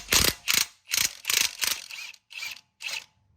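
Impact wrench zipping off the front strut bolts on a 2013-2016 Chevy Malibu, heard up close as about seven short, sharp mechanical bursts separated by brief pauses, with no talking.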